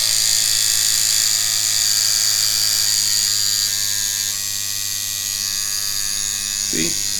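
A tattoo machine on an Ambition battery grip runs close by, a smooth, steady electric buzz that continues without a break, with a brief knock near the end.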